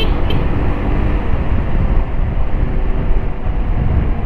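Yamaha XMAX 300 maxi scooter speeding hard along a highway, a steady loud roar of engine and wind rushing past the rider, continuous and close with no letup.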